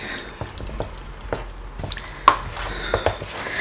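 Marinated chicken pieces stirred and mixed by hand in a bowl, giving soft wet squelching and scattered light clicks, close and fairly quiet, with no talking.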